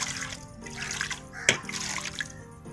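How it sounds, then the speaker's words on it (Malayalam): Water is poured over and inside a whole raw chicken as it is rinsed in a home kitchen, giving a soft, fairly faint stream of splashing and trickling with one sharper splash midway. "കുറച്ച് വെള്ളം ഒഴിച്ചൊന്ന് അകമൊക്കെ ഒന്ന് വൃത്തിയാക്കണം."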